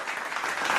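Short burst of applause from a church congregation, dense and steady clapping heard close, with no talk over it.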